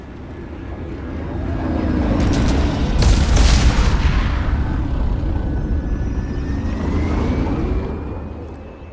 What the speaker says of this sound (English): We got a dropship coming in!